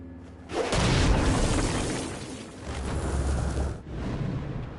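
Stone Blast power explosion in Saints Row: Gat out of Hell, a heavy booming burst with a rumbling tail that swells again before fading, with no voices over it.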